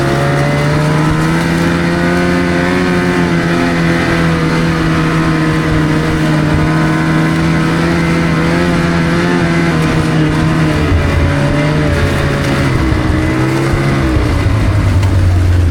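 A snowmobile engine drones loudly and steadily while riding a snowy trail, its pitch holding fairly constant with slight rises and a drop near the end, close and continuous with no voices.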